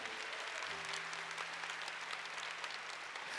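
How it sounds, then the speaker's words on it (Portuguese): A church congregation applauds in a steady, even wash of clapping that fills the whole clip. It is fairly quiet, with a low sustained tone underneath. "Vamos aplaudir essa verdade com alegria?"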